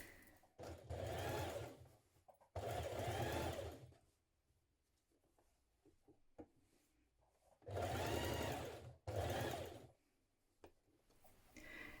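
A sewing machine stitches trim onto a thick vintage-style coat, running in four distinct bursts of steady whirring, each a couple of seconds long, separated by quiet pauses.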